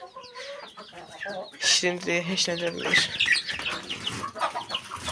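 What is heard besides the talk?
stressed chickens clucking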